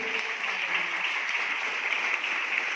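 A congregation claps to welcome a newly married couple at a church service, with steady, even applause from a crowd at middle distance that keeps going without a break.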